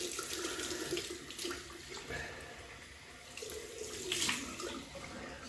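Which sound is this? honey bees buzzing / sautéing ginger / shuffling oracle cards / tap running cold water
tap running cold water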